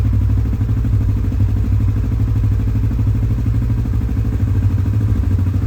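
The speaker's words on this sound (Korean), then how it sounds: "이제 엔진 스타트 온." A Kawasaki Ninja 650 motorcycle fitted with an Akrapovic full exhaust idles in a parking area, giving a steady, loud, low, throbbing rumble with a fast, even pulse and no talking.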